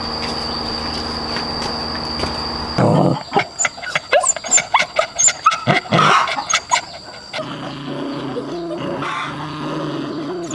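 Two dogs, apparently rescued strays, give a quick run of sharp, close barks and yelps with a whimpering edge, set between steadier background noise before and after.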